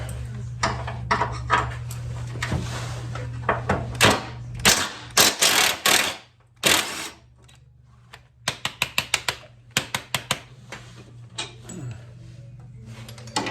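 Three 9/16 bolts being worked loose from a Cub Cadet 12HP engine on a bench, with bursts of sharp metallic clicks and ratcheting taps, a steady low hum underneath and pauses between the runs of clicks.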